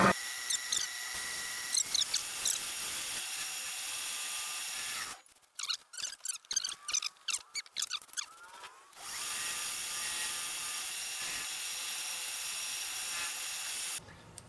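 A wood lathe turns at about 600 RPM during the final sanding and polishing of an open spiral chalice. It gives a steady, bright whir that cuts out briefly midway amid some knocks, then resumes at a constant level.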